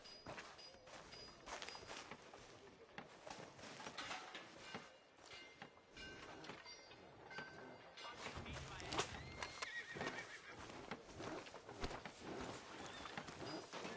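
In the video game Red Dead Redemption 2, a horse whinnies loudly amid clopping hooves, while people talk over the scene.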